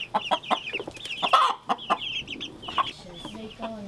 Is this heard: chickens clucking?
yes